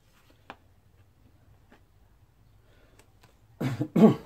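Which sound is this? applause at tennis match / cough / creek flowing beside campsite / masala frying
cough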